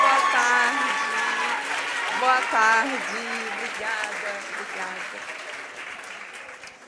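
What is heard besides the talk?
audience applause for a presenter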